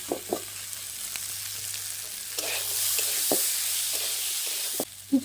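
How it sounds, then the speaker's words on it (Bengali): Chana dal frying with already-fried potatoes in a pan gives a steady soft sizzle, with a few light scrapes and taps of stirring breaking through now and then. "এখানে আলুগুলো ভালোভাবে ভেজে নিয়েছি। এবার আমি এর মধ্যে দিয়ে দেবো ছোলার ডালগুলো"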